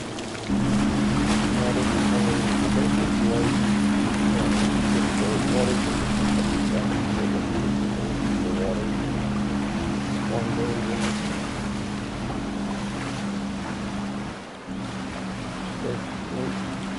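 Jet-powered watercraft skimming the water in the Trailmakers video game, a steady droning engine roar with rushing water and wind noise held for most of the stretch before briefly dipping near the end.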